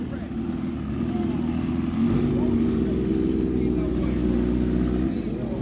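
A Kawasaki Ninja H2 motorcycle with a titanium exhaust at a car meet, a steady low engine rumble with a slight rise partway through, running under a man's speech.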